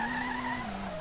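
Tires squeal in a steady, sustained screech with a slowly falling pitch as a Nissan R32 drifts around a track in the SLRR racing game, with no voices over it.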